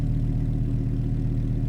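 A Lamborghini Huracán EVO engine idles in sport mode, a loud, steady, deep burble with a fast even pulse close to the car.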